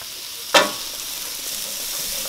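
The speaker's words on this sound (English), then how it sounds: "he's cooking that onion over there" Onion sautéing in a pan for a vegan unstuffed cabbage dish: a sudden loud sizzle burst as it hits the hot pan, then a steady, softer frying hiss.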